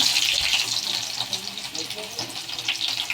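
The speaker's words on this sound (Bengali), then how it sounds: "পেঁয়াজটাকে লাল লাল করে ভেজে নেব" Chopped onions frying in hot oil seasoned with whole cumin and garam masala, a continuous bright crackling sizzle with bubbling pops throughout.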